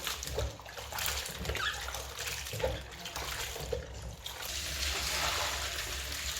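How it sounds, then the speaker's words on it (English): Beans washed by hand in water while preparing moin moin, soft sloshing and swishing with small splashes and trickles, steady and close, with no talking. "This is the fastest way to wash your beans."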